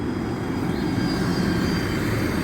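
A train running between Edinburgh and Bridge of Allen and Dunblane rumbles past in a loud, steady roar with a faint high whine above it, continuous throughout with no speech.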